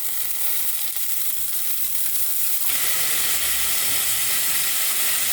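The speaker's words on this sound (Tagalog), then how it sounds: "magigisa tayo ng bawang tsaka sibuyas" Garlic and onion sauté in a hot pan for a stewed pork dish, making a loud, close sizzle that rises sharply partway through as more goes in, then stays even and hissing.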